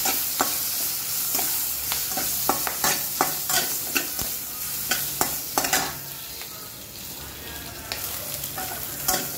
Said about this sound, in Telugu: కొంచెం మినపప్పు ఎరడాలుగా వచ్చేంత వరకు వేయించుకున్నామండి. కరివేపాకు వేసుకున్నాం